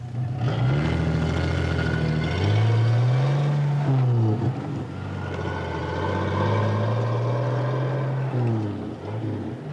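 An old truck engine runs loudly and steadily throughout, its low droning pitch rising and falling as the revs swell and ease, with no voices over it.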